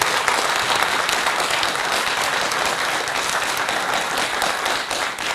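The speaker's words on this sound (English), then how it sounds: "we would like to give them a big applause" A large conference audience gives sustained, dense applause for the keynote speakers, a steady wash of clapping that continues evenly throughout without talk.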